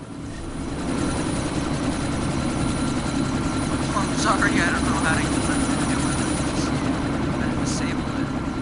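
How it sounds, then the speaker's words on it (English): Helicopter idling just before takeoff, a steady loud whirring engine and rotor drone throughout, with people talking over it. "That chopper's about to take off."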